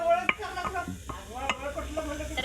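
Chopped onion tipped into a hot pan and stirred for a rustic dried-fish chutney, quick scraping strokes over a soft sizzle, close and fairly quiet.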